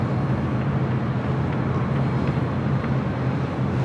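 An Airbus A350-900 taxiing at LAX gives off a constant, dense engine roar and rumble, steady and fairly loud, with no talking over it.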